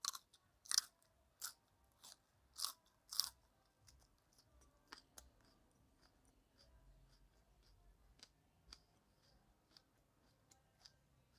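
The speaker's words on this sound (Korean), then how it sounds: "한국에서 가장 매운 청양고추를 일단 먹어보도록 하겠습니다." Close, crisp crunches as someone bites into a Cheongyang chili pepper: a few sharp, spaced bites at first, then quieter, softer chewing and small clicks.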